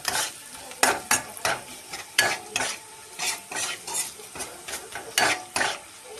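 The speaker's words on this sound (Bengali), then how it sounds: "তো দিয়ে এখন একটু নাড়াচাড়া করব।" Pasta tossed with Maggi masala in a pan, stirred with a run of rhythmic, close scraping strokes over a low sizzle, about a dozen sweeps in quick succession.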